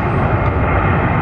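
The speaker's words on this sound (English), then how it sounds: "Primary just landed. Another 767 freighter." A Boeing 767 freighter lands at Atlanta airport, a brief, loud, roaring rush of engine noise heard close and alone.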